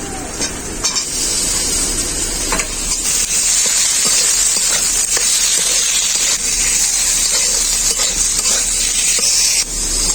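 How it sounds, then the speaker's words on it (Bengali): Chopped tomatoes stir-fried with spice paste in a pan, for a cauliflower and khoira fish curry, make a steady close sizzle and hiss with occasional scraping stirs, continuous and fairly loud throughout. "টমেটোটাকে মশলা সাথে আমি খুব ভালো করে কষিয়ে নেবো"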